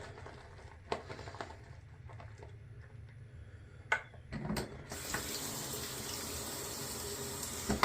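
Water runs from a tap into shaving soap lather, starting with scattered clicks and taps and then a steady, close rush of flowing water.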